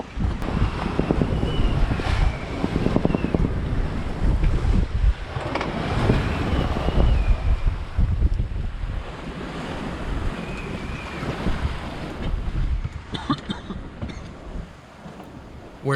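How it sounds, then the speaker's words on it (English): Strong wind of around 30 knots roars over rough Caribbean seas at night aboard a sailboat, with waves crashing and surging in uneven bursts and constant buffeting wind noise throughout. "We're entering the roughest night of the trip, with average wind speeds of around 30 knots"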